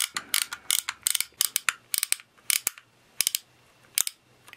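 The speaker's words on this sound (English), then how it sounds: "So you hear that louder click, you turn it away from the trigger." The crank of a Power Rangers Spin Fighters turbo launcher being twisted, giving close, sharp ratcheting clicks in irregular bursts with short pauses between.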